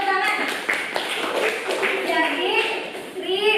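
Scattered clapping from a small group of people in a classroom, mixed with children's voices chattering over it.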